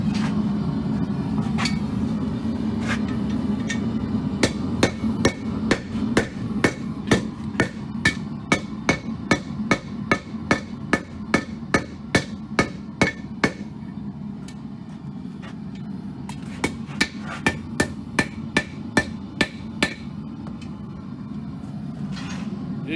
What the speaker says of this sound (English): when he gets it down here to his anvil, he's gonna flatten the back